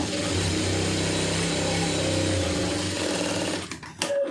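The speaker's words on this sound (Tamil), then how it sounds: "கட் பண்ணிவிட்டு வளைவாக வந்து தச்சு வச்சுக்கோங்க" A sewing machine stitches a cut fabric tail strip, a steady fast mechanical whir running continuously up close before stopping abruptly near the end with a few faint handling clicks.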